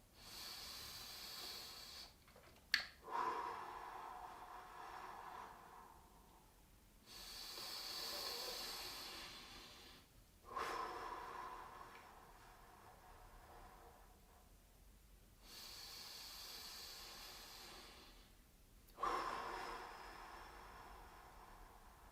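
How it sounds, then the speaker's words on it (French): Three deep, slow breaths during a gentle seated arm stretch in an adapted gym session: long, soft airy inhales and exhales, close and quiet, with no talking. "On est parti pour 3 grandes respirations."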